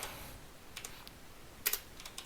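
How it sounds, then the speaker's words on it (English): Someone types "sudo" on a computer keyboard while logged into a Linux server, producing a few quiet scattered key taps followed by a sharper cluster of clicks near the end. "So I'm going to go ahead and type in sudo."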